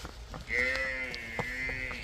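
A buffalo lets out a single drawn-out moo, fairly close, with faint background noise around it.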